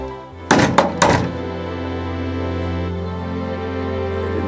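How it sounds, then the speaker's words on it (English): Three heavy bangs on a door, loud and close in quick succession, followed by a steady hum. "I'm going to bang on that door one more time."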